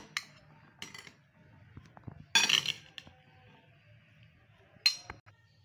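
A spoon clinks against a bowl while green chutney is mixed into Lahori channa chaat, giving a few sparse metallic taps and scrapes, soft and close, with quiet gaps between them.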